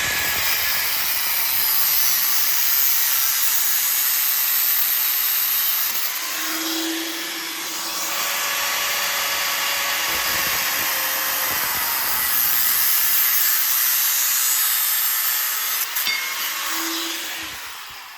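A power saw cuts through a metal ATV frame rail for a TRX140 build, a steady loud rasping grind running continuously with brief shifts in pitch as the blade bites, no talking.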